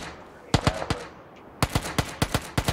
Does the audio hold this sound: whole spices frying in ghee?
no